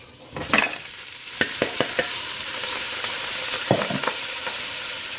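Leeks, onions and garlic sizzle in a pan over medium heat, a steady broad hiss broken by several sharp utensil clicks and scrapes against the pan, close and clear with no talking.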